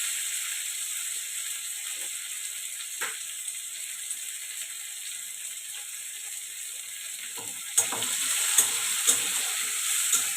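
Tomato frying in a pan during vegetarian cabbage cooking, a steady hiss of sizzling oil with occasional soft stirring scrapes and light clinks toward the end, no talking.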